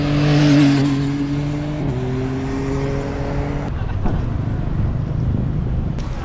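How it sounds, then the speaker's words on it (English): Busy lunchtime traffic on a Kuala Lumpur city road near the Petronas towers, with a car engine humming close by and passing vehicles blending into a continuous roadway rumble. "So many cars on the road."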